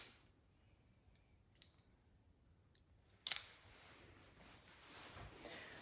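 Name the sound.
scissors point cutting hair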